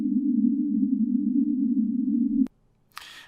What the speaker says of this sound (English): put it through a bandpass filter to pick out only those